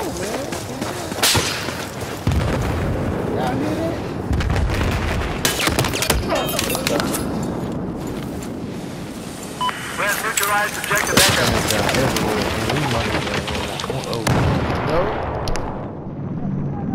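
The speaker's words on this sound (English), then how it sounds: "Two other guys came up and shot." Gunfire from a squad-based shooter game rings out in dense, repeated sharp cracks and volleys across the whole stretch, overlapping and loud, with players talking over it.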